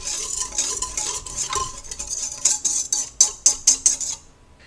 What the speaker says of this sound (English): I'm going to take my whisk and I'm just going to blend this together